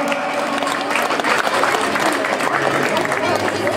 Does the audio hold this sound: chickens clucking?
no